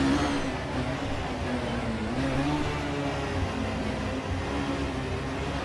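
A 2016 Mazda MX-5 Cup race car engine in a racing video game drones steadily and loudly, holding a sustained pitch with slight rises and dips, no talking.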